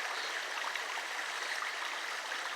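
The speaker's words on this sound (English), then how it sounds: "This river is called La Mina." The La Mina river in the El Yunque rain forest flows with a steady, dense rush of water, even and continuous throughout, with no voices.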